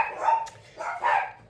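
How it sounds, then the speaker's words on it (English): Dogs barking indoors, a few yelping barks in two short bursts at moderate distance, with no talking over them. "the dogs are barking at them"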